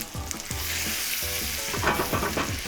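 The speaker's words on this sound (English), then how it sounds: "I'm gonna add a little bit more butter, like about half a tablespoon," Grilled cheese sizzles in melting butter in a pan, a loud, steady frying hiss with soft rhythmic stirring or scraping thumps underneath and no voices.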